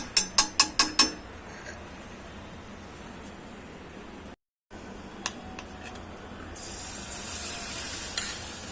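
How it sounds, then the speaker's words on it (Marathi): Batata vada frying in hot oil, a low steady sizzle broken by a quick series of sharp clinks near the start and a few later taps, no talking. "वडा लगेच हलवायचा नाही टाकल्या टाकल्या एक दोन मिनटं त्यांना चांगले फ्राय करून घ्यायचे"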